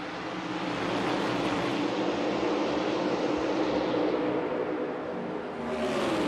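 A field of NASCAR Cup cars thunders past under the green flag at Kansas, a loud continuous engine roar that swells and holds, then dips briefly before building again near the end.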